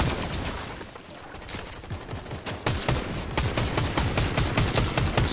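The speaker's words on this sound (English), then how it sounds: "Somebody's shooting at me." Rapid gunfire from a video game shootout, dense bursts of automatic fire and single shots building in intensity and continuing steadily throughout, loud and close with no talking.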